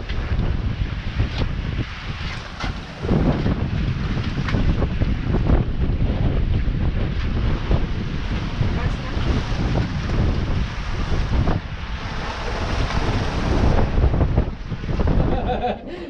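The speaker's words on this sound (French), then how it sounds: "L'océan est déchaîné, 40 nœuds, la totale." A sailboat crosses the Atlantic through a gale of about 40 knots on a rough ocean, with loud wind buffeting the microphone and waves crashing and churning continuously all around.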